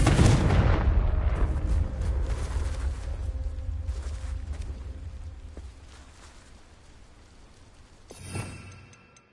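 Confringo explosion spell in Hogwarts Legacy on PS5, a sharp loud blast that rolls into a long, fading rumble, followed by a second smaller burst near the end.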